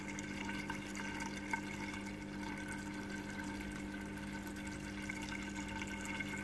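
Water overflowing into a DIY overflow and trickle tower, a constant faint trickle and splash with a steady pump hum underneath, no talking.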